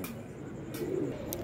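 A short burst of pigeons cooing, with low, continuous throaty murmurs that are fairly close, over soft ambient noise.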